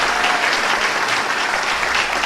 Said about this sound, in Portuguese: Vamos aplaudir a Deus mais forte